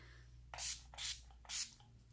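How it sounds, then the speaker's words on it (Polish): An Urban Decay makeup setting spray gives three short, close hissing pumps at an even pace over a low steady background hum. "na koniec y, spray, ten z Urban Decay, który bardzo lubię."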